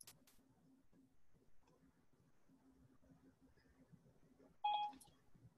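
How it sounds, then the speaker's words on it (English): A mobile phone gives a short, bright electronic beep near the end, over a faint, quiet room background with no talking. "Sorry, that's my phone."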